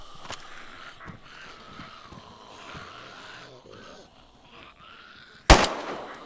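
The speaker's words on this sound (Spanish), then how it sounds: "Voy a meterle un par de tiros con la pistola." A single sharp, loud pistol gunshot in the video game DayZ cracks near the end, following several seconds of low murmuring voices and quiet background noise.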